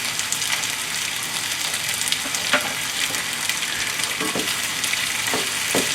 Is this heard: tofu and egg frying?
yes